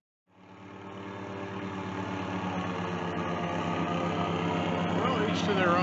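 A dinghy outboard motor runs steadily on the water with a constant low engine drone and vibration that holds loud for the whole stretch, with no talk over it.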